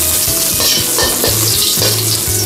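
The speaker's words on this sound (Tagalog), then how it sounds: "gisa na po natin ang ating ginger" Ginger sizzling in hot oil in a pan, a loud steady fry broken by rhythmic clinks and scrapes of a spatula stirring, with no voices.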